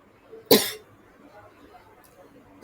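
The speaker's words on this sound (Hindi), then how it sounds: "सॉरी, मुझे आज खांसी बहुत ज्यादा है" A single sharp cough bursts out loud and close against a quiet room, fading quickly, with faint murmuring chatter in the background.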